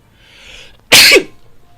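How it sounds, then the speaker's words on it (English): A single loud, close sneeze bursts out after a brief breathy intake, then trails off into quiet. "I need to sneeze."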